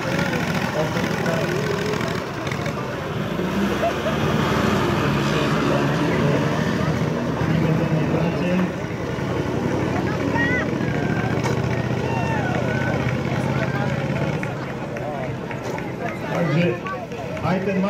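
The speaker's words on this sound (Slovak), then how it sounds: "Ten malý traktorik bol dostatočne rýchly, len mal problém na otočke trochu." A small tractor at a racing event, its engine droning and revving continuously at a distance over the whole stretch, with a commentator talking over it.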